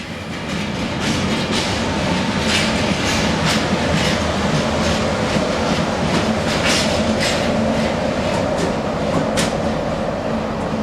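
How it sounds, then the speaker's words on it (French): Railway rumble in a station as a diesel locomotive shunts freight wagons, a steady loud rolling roar with rhythmic clicking wheel beats over rail joints running throughout. "un diesel manœuvre des wagons de marchandises"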